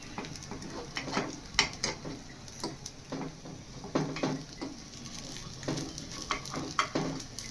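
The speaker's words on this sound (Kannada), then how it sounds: "ಎರಡೂ ಕಡೆಯೂ ಕ್ರಿಸ್ಪಿ ಆಗೋವರೆಗೂ ಚೆನ್ನಾಗಿ ಬೇಯಿಸ್ಕೊಬೇಕು ಎಲ್ಲನೂ ಈ ರೀತಿ ಮೇಲೆ ಕೆಳಗೆ ಮಾಡ್ಕೊತಾ ಇದ್ದೀನಿ" Paddu cooking in a paddu pan, turned over and over until crisp on both sides: a soft, steady sizzle broken by frequent small clicks and scrapes of the turning tool against the metal, close by and fairly quiet.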